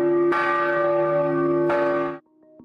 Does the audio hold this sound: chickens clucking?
no